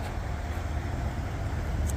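A car engine rumbles steadily at close range, a continuous low drone with no breaks and no voices.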